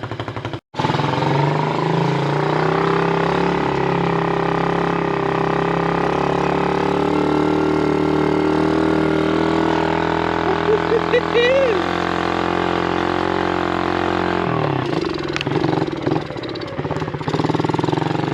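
A pit bike with a stock carburetor, started cold by kick, idles and revs as a loud, steady engine drone throughout, with a voice talking over it partway.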